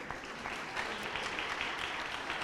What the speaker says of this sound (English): A round of applause, please, to the winners of the day